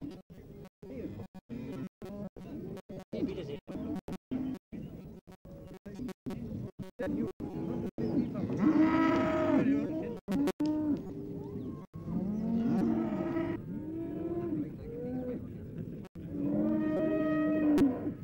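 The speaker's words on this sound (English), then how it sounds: "It's the cattle that provide the money, the noise, and the dirt." Cattle moo repeatedly in loud, drawn-out calls at an Irish fair day in 1971, with some closer than others. A crowd chatters and there is clattering in the background.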